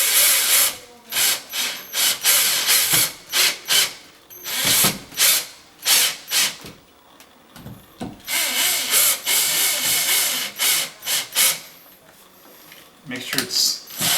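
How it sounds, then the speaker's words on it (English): A power drill drives screws to fix an electrical box into wood, with repeated close whirring bursts and ratcheting pulses separated by short pauses, a voice speaking at times in between. "you can screw the whole box"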